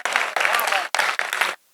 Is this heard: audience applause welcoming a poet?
yes